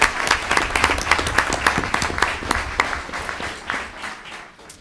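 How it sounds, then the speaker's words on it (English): People at a school board meeting give a round of applause for a student, with many sharp, close claps in a lively burst that thins and fades toward the end. "Let's give Zeta a big round of applause."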